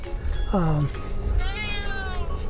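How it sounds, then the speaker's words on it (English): A cat gives a loud, drawn-out complaining meow, followed by a higher wavering yowl, inside a Grand Design Imagine XLS 17MKE travel trailer on a camping trip, with a steady hum of background noise. "I knew this cat was about to throw a fit"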